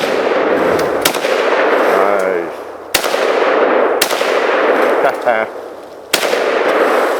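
A Swiss military rifle fired repeatedly at a steel plate: four sharp, loud cracks spaced about two seconds apart, each followed by a ringing tail, with faint voices between shots.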